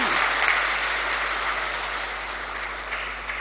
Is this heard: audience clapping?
yes